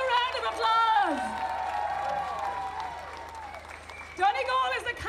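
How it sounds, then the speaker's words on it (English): A rally crowd claps, cheers and whoops in a sustained round of applause, fairly loud and continuous, with a voice speaking over it at the start and again near the end. "they deserve another round of applause"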